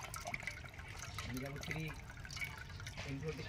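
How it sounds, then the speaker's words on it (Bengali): Coconut water pouring out of a freshly cut green coconut into a vessel, soft trickling and splashing close by, with people talking over it. "বন্ধুরা আমরা প্রথমে ডাবের জলটা বের করে নিচ্ছি"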